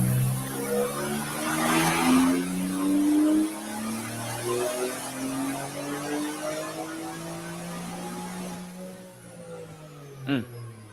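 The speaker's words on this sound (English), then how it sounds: "But this is the dyno run that he did, and the car made." A tuned Nissan Q50 making over 800 wheel horsepower on a dyno revs loudly, its engine pitch climbing steadily in a long sweep before cutting off with a brief sharp burst at the end.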